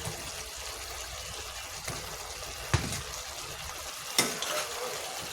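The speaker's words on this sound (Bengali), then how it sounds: "হালকা করে একটু কষিয়ে নেব আলুটা" Cut potatoes sizzle in a pan with country chicken cooked in ground chili paste, a steady low frying hiss with a couple of sharp clinks from stirring, no voices.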